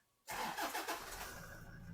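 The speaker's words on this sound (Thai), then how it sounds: "สตาร์ทที่เดียวติดแบบนี้แล้วเครื่องยนต์ฟิตๆแน่นๆนะ" A 2018 Toyota Commuter 3.0 D4D diesel van engine cranks and catches at once after a moment of silence, settling quickly into a loud, steady idle nearby.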